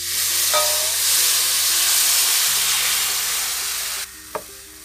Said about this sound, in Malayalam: ഇനി നമ്മൾ ഇതിലേക്ക് 1 കിലോ വെള്ളം എടുത്തിണ്ടായിരുന്നു, ഫിൽട്ടർ ചെയ്ത വെള്ളമാണ് കേട്ടാ, അത് ഇരിക്കും ഒഴിക്കുക